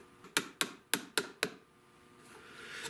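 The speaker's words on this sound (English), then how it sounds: "it takes a hammer to get it out" Five sharp metallic hammer strikes on a punch ring out in an uneven rhythm, close and loud, followed by a quiet scraping, while restoring an old double-barrelled shotgun.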